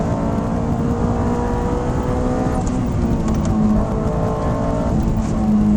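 A Honda S2000 AP2 rolls over bumps with its engine droning steadily from inside the cabin, joined by a few faint thuds from the suspension.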